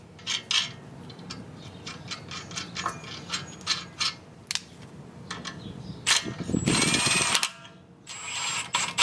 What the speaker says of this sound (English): So now you'll go ahead and put these bolts on